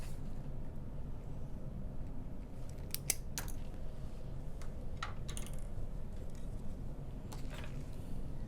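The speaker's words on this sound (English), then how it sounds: "cut our zipper to 10 inches" Scissors snipping through a zipper being cut to 10 inches for sewing a handbag, a few quiet sharp clicks over a faint background hiss.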